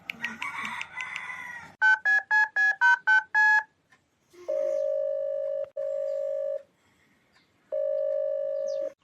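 A phone call rings out unanswered: an outgoing ringback tone of steady repeated beeps, preceded by a burst of quick dialing-style tones, with a rooster crowing briefly at the start; no talk over it.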